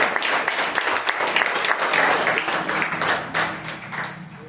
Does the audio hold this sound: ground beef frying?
no